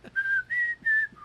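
A person attempts to whistle, producing three short, steady whistled notes close by, followed by a fainter fourth.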